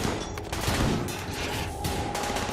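A dense barrage of gunfire from colonists and defensive turrets in the RimWorld video game, with overlapping rapid shots cracking continuously over a crowded, noisy battle.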